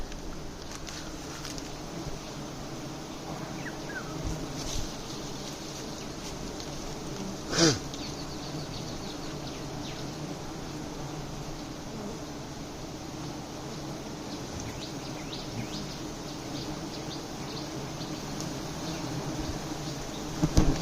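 A dense, steady insect drone of many honeybees buzzing close by at a hive's honeycomb during honey collection, continuous throughout, with one brief louder burst partway through.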